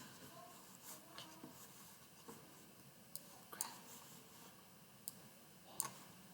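Faint mouse clicks on a software check button during a calibration routine: a few sparse, sharp ticks spaced seconds apart over a low, steady room hiss.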